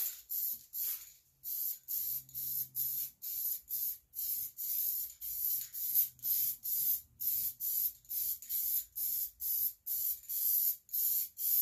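Repeated short bursts of spray paint hiss across a 54-inch John Deere Z445 zero-turn mower deck, roughly a dozen evenly spaced close sprays with brief pauses and faint clicks between.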